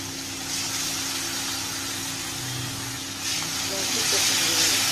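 Green chillies sizzle in hot oil in a pan while cooking a tilapia fish curry, a steady loud hiss and crackle that swells louder toward the end.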